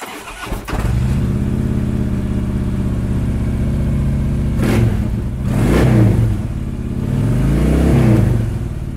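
A 2013 Harley-Davidson Street Glide with a 103 cubic inch twin cam engine starts, settles into a loud, close idle, then revs up three times in rising bursts, with no talking.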